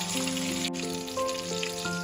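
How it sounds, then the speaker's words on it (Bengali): Fish oil frying in a pan, a close, steady sizzle with scattered small pops and one sharp crackle, continuous and alone. "মাছের তেলটা ভাজা হয়ে গেছে।"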